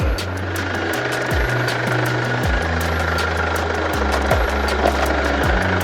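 An eight-year-old Mercedes-Benz diesel engine idles in its open engine room, a steady, even low rumble with a faint repeating knock rhythm, heard up close with no talking.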